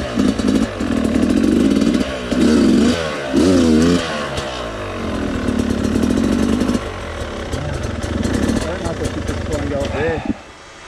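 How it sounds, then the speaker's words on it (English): Dirt bike ridden around a dirt track, its engine rising and falling through repeated revs and gear changes at close to medium range, loud throughout and cutting off near the end, with voices heard in between. "I could just watch Kev's bike going."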